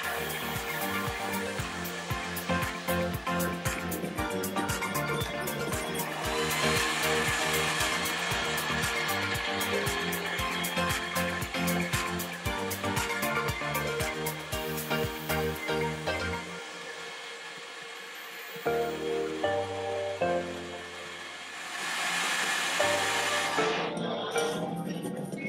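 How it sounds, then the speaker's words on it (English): A lathe faces and turns hexagonal brass stock down to a round section for a steam engine boiler safety valve, giving a loud, droning machine whine with rhythmic cutting chatter that drops away to quieter tones near the end. "The stock is faced off and turned down to a circular cross-section to fit into the valve bushing"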